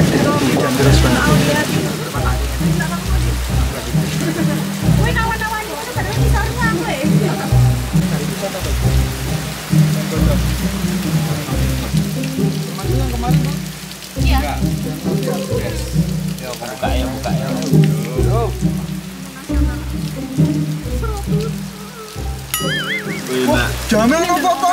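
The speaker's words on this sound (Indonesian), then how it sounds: "ini lagi hujan" Rain falls steadily throughout, a constant hiss with patter on surfaces, while people talk over it and a low rumble runs beneath.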